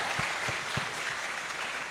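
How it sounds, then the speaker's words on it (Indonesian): Audience applause at an Indonesian gathering, a dense steady patter of many hands clapping at moderate loudness throughout, with a few low thumps near the start and no talking over it. "Oke, tepuk tangan untuk Komkep ya."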